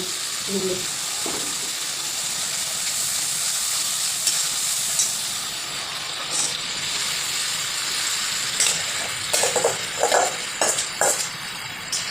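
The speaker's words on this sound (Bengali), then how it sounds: "মশলাটা কষিয়ে নিয়ে মশলার সঙ্গে আবার" Spice masala frying and being stirred in a pan while iftar food is cooked, a steady loud sizzle and hiss with scraping stir strokes clustering toward the end.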